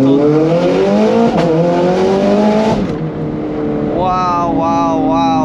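A Ferrari engine revs hard in first gear, its pitch climbing steadily before a shift and then surging again in rising pulls. The sound is loud and close, with a voice audible alongside.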